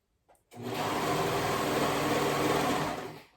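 A sewing machine runs at a steady, fast hum for about three seconds, stitching over the elastic waistband of a pair of leggings. It is close and loud, with no talking.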